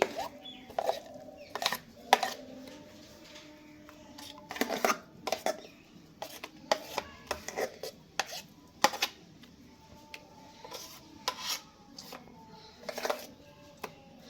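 Dahi vada batter being beaten by hand in a metal plate, giving irregular clattering and scraping strikes, close and fairly loud, with no talking.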